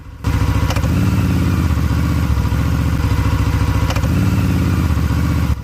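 A 2023 Benda Black Flag 500 V4 motorcycle idles steadily in neutral, with two cylinders deactivated, giving a deep, lumpy rumble and a faint mechanical clatter, running continuously without revving.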